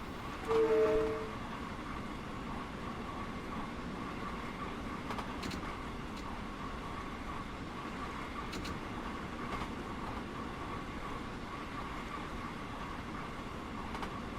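An LIRR M3 commuter train runs in the Train Sim World game with a low, steady rumble of motor and track noise, a brief louder tone near the start, and faint clicks over the continuous drone.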